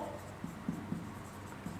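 During a Class XI set theory lecture, a teacher writes on a board, making a few short, faint scratching strokes spaced unevenly across a quiet, brief moment with no talking.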